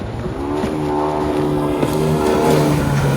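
Wet bike, a water dirtbike, with its engine droning loud and steady on the water, a continuous buzzing tone with slight pitch wavering throughout.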